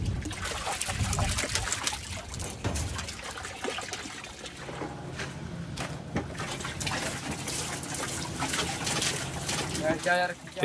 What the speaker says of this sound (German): Ich bespritze die Büffel, weil es so heiß ist.